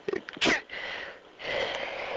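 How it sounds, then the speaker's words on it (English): A single loud sneeze bursts out after some brief rustling, followed by noisy, breathy room sound; no speech is heard. "I just sneezed"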